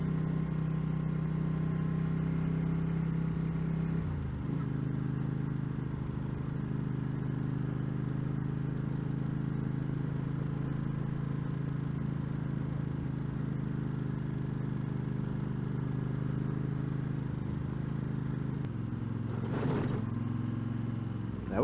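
A Mercedes GL500 driving along a gravel road, a steady low engine drone with constant road rumble throughout, a brief dip in pitch early on and a bump near the end.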